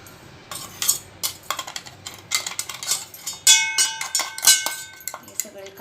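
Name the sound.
spoon stirring sugar into milk for chikoo ice cream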